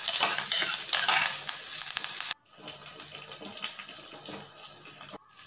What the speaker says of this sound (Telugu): ఆవాలు, జీలకర్ర, పచ్చిశనగపప్పు, పచ్చిమిరపకాయలు, జీడిపప్పు, అల్లం, కరివేపాకు, 2 ఎండుమిరపకాయలు వేసి తాలింపును బాగా వేగనివ్వండి